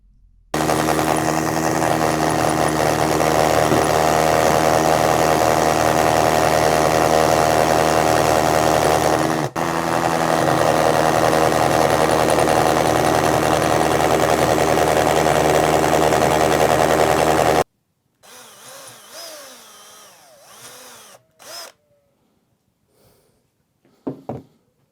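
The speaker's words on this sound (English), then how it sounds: "So I'm now taking the other small drilling machine." A small electric drilling machine bores a hole into a wall, giving a loud, steady whining motor drone for about seventeen seconds before cutting off, followed by quieter scattered handling noises.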